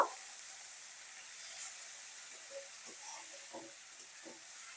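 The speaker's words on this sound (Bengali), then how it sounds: "উচ্ছেটা কিছুক্ষণের জন্য 5 ফোড়নের সঙ্গে আর তেলের সঙ্গে আমি ভেজে নেব" Bitter gourd frying in oil with five-spice seeds, a steady soft sizzle and hiss with faint crackles, close and continuous with no talking.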